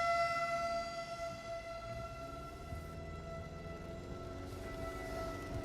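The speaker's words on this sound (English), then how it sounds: "Got the tornado sirens going off" Steady droning tornado sirens wail in the distance in St. Anne, Illinois, layered tones holding level with a slight waver, no voices nearby.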